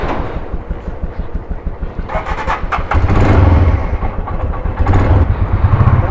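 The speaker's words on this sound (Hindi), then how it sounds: "बस बाइक को कर रहे हैं स्टार्ट" A motorcycle on a Leh-Ladakh trip from Kargil toward Batalik chugs over, then fires up about halfway through and settles into a loud, close, throbbing idle.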